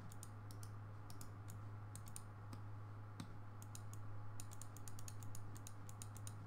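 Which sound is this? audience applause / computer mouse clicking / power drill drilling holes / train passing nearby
computer mouse clicking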